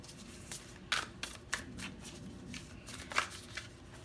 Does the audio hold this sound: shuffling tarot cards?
yes